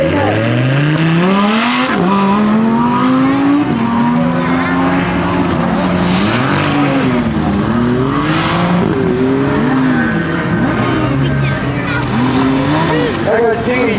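A Porsche 911 Turbo launches hard at a supercar event, its loud engine revving and rising through quick gear changes with tire noise. Crowd chatter mixes in, and other cars roar throughout.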